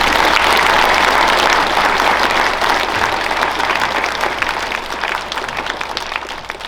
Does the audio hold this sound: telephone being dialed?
no